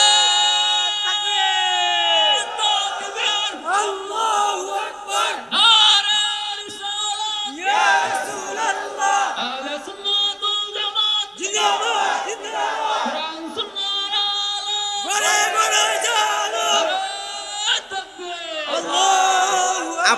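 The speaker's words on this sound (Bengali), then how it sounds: "একটা তাকবীর হবে নারে" A large crowd at a religious gathering shouts a takbir chant of Allahu Akbar in loud, repeated rising bursts of massed voices across the whole stretch.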